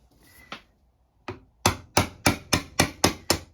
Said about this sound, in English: Just clean up that last edge with one final little chisel